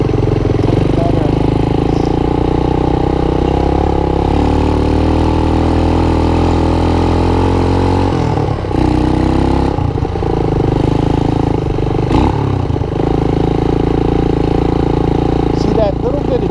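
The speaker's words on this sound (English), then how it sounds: "See that little bit of double clutching when you're trying to bring it into a turn" A Honda TRX200SX ATV engine with a hard-shifting clutch runs steadily and loudly close by, idling with small rev changes and brief dips where the rider double clutches into a turn.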